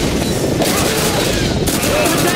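Dense, continuous battle gunfire from Call of Duty 2, a World War II shooter, with rapid machine gun bursts blending into a constant roar of combat noise.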